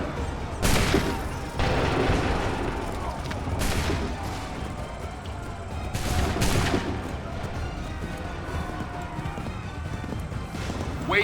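Musket volleys in Assassin's Creed III, several sharp broadband bursts spaced a few seconds apart over a steady battlefield din, with shouted commands among the soldiers.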